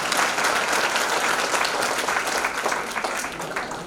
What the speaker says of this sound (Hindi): बजाइए ताली दीदी को।